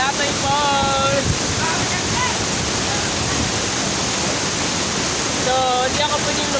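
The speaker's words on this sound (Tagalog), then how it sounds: "Ang falls namin sa Manatay Falls." Manatay Falls pours in a loud, continuous roar of cascading water close to the microphone, with some wind buffeting and brief voices rising over it near the start and end.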